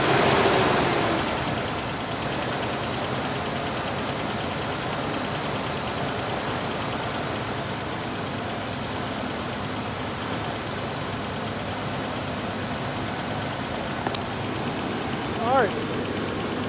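A Ford Ranger 3.0 V6 pickup engine idles steadily at close range after a cylinder head and head gasket replacement, a continuous rumble with a louder burst at the start.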